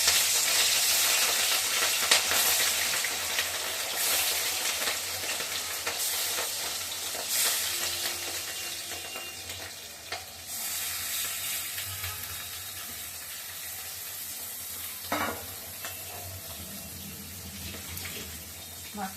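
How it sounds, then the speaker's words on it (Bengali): Fish sizzling as it fries in hot oil in a pan on a kitchen stove, with dried fish added alongside; a steady, fairly loud crackling hiss runs throughout with occasional sharper spits and clatters. "আগে মাছগুলো তেলে দিয়ে দিই।"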